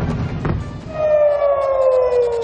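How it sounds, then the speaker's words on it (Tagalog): An air raid siren in Tel Aviv, Israel, sounds during an exchange of strikes with Iran, rising into a loud, sustained wail that holds steady and slowly sinks after a brief burst of background noise. "ang alingaw-ngaw na mga sirena sa Tel Aviv"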